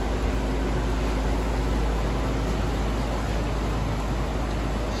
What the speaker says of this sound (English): the noise you hear is the vent fan up there getting rid of the steam.